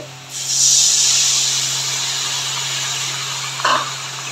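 Water from washed dried-fish bones is poured into hot oil for a dried fish (shidol) chutney with onion greens, setting off a loud, steady sizzling hiss that swells and slowly fades, ending with a brief clatter.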